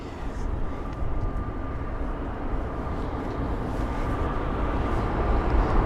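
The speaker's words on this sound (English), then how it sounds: "There's the A320neo as well of British Airways" A British Airways Airbus A320neo jet heard in a steady, continuous engine roar at London Heathrow, a broad low rumble holding at even strength with a faint steady whine layered over it.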